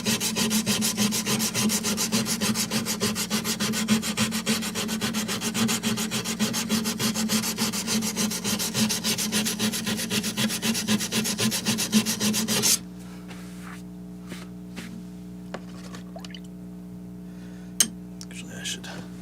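Hand sanding of knife scales and wood blocks, a steady rapid rasping scrape of abrasive strokes that runs loud and continuous, then stops abruptly, leaving a quiet room with faint scattered knocks.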